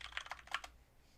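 Quiet computer keyboard typing as a password is entered, a short burst of several soft keystrokes over about half a second, then stillness.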